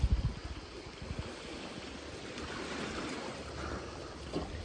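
Soft, steady wash of sea water along a beach in Spain, a low continuous rush with a few gentle surges, fairly quiet and with no voices.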